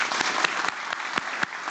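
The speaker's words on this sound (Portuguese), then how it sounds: "Uma salva de palmas para a gente começar" Applause at a credit cooperative's annual general assembly: a steady wash of many hands clapping, dense and continuous, with a few louder individual claps standing out, no talk over it.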